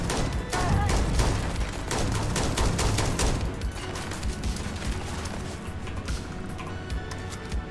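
Sustained bursts of rapid gunfire from a powerful weapon in a video game, dense and loud throughout with sharp repeated shots, heaviest in the first few seconds and continuing steadily to the end.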